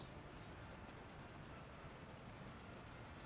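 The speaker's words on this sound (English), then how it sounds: "Train passing." Train rolling past in the city-building game Workers & Resources, a steady low rumble of wheels and wagons lasting throughout, with no voices.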